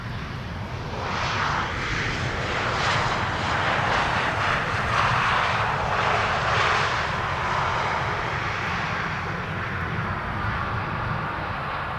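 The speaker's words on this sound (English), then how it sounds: "KLM A321neo arriving from London Heathrow, KLM Flight 1002" A KLM Airbus A321neo arriving from London Heathrow at Amsterdam Schiphol gives a steady, loud jet engine roar that holds throughout with broad rushing noise.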